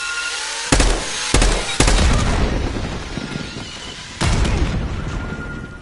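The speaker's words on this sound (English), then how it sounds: "Grenade out. Grenade incoming!" Grenade blasts in Call of Duty Black Ops 6 land as a few loud, sharp booms, each followed by a rumbling, slowly fading tail of combat noise.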